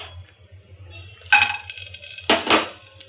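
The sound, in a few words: dry fruits being added and stirred in melted ghee in a pan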